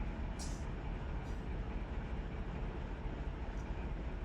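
Freight train in the Run 8 Train Simulator game, a continuous low rumble and rolling drone at moderate level, with a couple of brief higher hisses over it.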